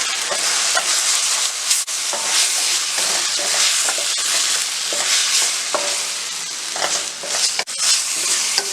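Coriander and cumin powder fry in a pan for egg pulusu, giving a steady, loud, close sizzle with faint stirring clicks throughout and no talking.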